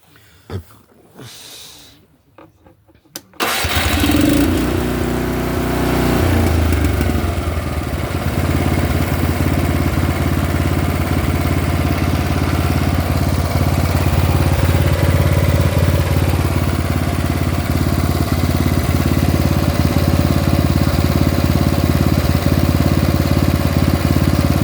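After a few quiet seconds of faint handling noise, a Honda HSS snowblower engine catches and settles into a steady, loud, close idle hum that runs evenly to the end.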